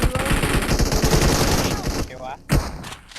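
Rapid automatic gunfire from the mobile battle-royale game PUBG Mobile, loud and dense for about two seconds, then breaking off into a few scattered shots and clatter.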